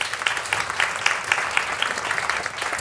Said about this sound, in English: Round of applause for Pauline.